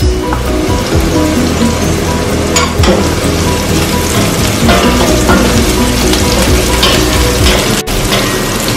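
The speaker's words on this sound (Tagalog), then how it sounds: "Magigisa na po tayo ng ating bawang." Garlic sautéing in oil in a pan as the base for pork pochero, a loud, continuous crackling sizzle dense with quick pops, close up.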